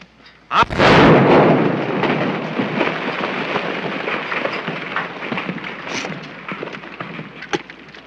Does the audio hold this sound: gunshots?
yes